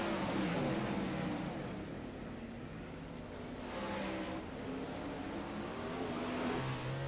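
Dirt track race cars lapping I-55 Speedway, a dense roar of engines heard from on top of a car's cage, with steady throbbing drone and wind-rushed noise, rising slightly as engines rev.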